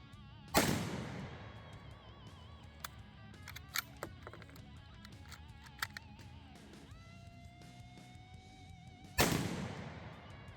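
Two sharp rifle reports from 6.5x52mm Carcano ammunition, one near the start and one near the end, with a weak squib-load malfunction between them, followed by faint metallic rattles and handling noises outdoors.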